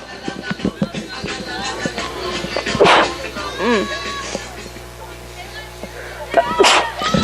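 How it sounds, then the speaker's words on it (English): A loud sneeze bursts out over a noisy background with voices talking, followed later by another sharp sneeze-like burst. "I hate sneezing."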